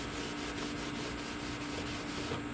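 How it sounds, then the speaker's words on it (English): A cloth soaked in rubbing alcohol rubbed over the paint of a Dodge Challenger ZL1 body panel: a steady, close, scratchy wiping noise that continues without pause, with no voices. "use some rubbing alcohol to just clean this area"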